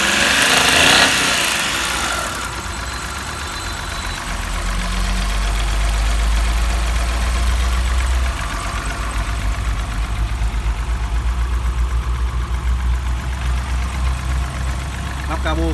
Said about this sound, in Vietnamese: Máy móc của nó đây rất là êm,